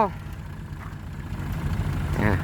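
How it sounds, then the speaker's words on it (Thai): Farm tractor engine idling while stuck in mud, a steady low throbbing rumble that grows slightly louder, with a brief voice near the end. "เดี๋ยวรถไถเจ้าบอทองจะจมอะ"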